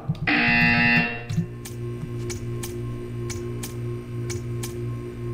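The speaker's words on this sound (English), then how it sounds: "You will hear a buzzer." A harsh electronic buzzer from the video game Portal 2 blares for about a second, then a steady ticking pulses on over a low hum.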